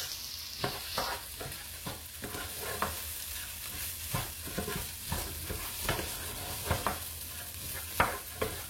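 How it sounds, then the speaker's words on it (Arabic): Rice with vermicelli is stirred in a pot in repeated close scraping strokes over a soft, steady sizzle. "On mélange bien le riz avec la vermicelle."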